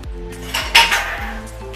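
A spoon stirs fried gobi (cauliflower) into thick Manchurian gravy in a metal pan, with close, repeated clinks and scrapes against the pan in an uneven rhythm.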